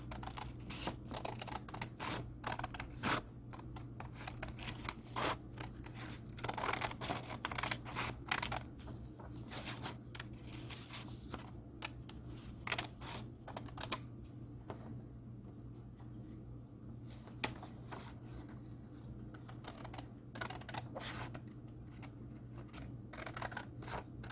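Scissors snip paper cut slightly oversized for a collage laid over Bristol board, a steady run of close, crisp clicks and rustles repeating without pause and no talking.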